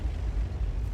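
A tank cannon fires at close range in World of Tanks, a loud, dense blast that fills the whole second with a heavy, rumbling roar and no voices.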